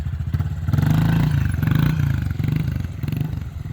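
A 2020 Honda CRF110F pit bike idles and revs close by, its small engine giving a steady low rumble with a mechanical clatter that swells and eases over a few seconds, no voices.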